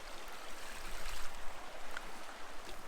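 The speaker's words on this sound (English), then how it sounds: "I'm going to run some water just to get all the loose stuff out" Water rushes steadily through a river sluice box set in a creek, a continuous broad wash of flowing water with faint trickles, fairly quiet and with no voices.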